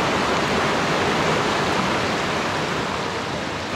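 A river flows beside a bikepacking route as a loud, steady, broadband rush of water with no breaks and no voices.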